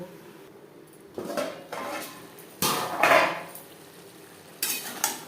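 A metal pot lid is set over a simmering fish curry with papaya on a gas stove, giving a few close clanks and scrapes with quiet gaps between them.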